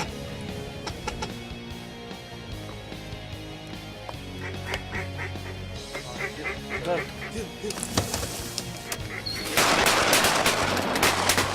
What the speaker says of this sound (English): Rocky's brother shot a duck